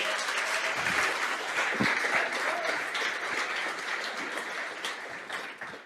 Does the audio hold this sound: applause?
yes